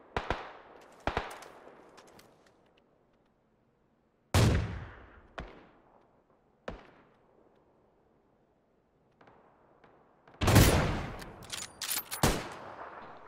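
Bursts of gunfire in a PUBG match, several sharp shots and two loud, dense volleys separated by quiet gaps, with no talk over them.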